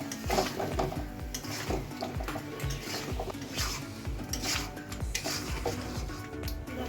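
A spoon stirs boiled elephant foot yam and potato together with spices in a pan, a busy scraping and clattering with some sizzle that stays continuous and close throughout, without any talking.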